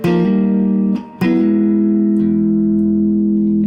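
An electric guitar plays a chord approached from a step below, a loud, sustained, slightly driven chord sliding up through two quick changes before settling and ringing out.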